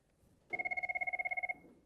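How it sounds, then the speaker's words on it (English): A 6900 Series desk phone plays a ringtone: one bright electronic ring of rapid, even pulses lasting about a second, clear and alone before it stops. "I can change my ringer here, right? I can play it."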